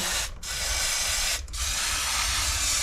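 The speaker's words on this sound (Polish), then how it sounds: "Ten spray ma dość duże ciśnienie, tak widzicie." Aerosol cleaning spray hisses at high pressure onto a trailer wheel bearing, a loud steady spray with two brief pauses, heard close up with no talk.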